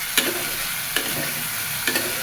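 Potatoes sizzle as they are stirred and fried in oil in a pan, a steady bright hiss with three evenly spaced scraping strokes of the spoon, close and fairly loud.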